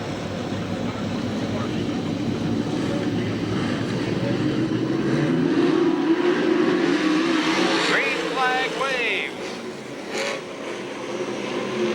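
USAC/CRA sprint cars roar off at a race start at Santa Maria, a dense, loud engine drone of several cars that swells and then fades, with an announcer talking over it.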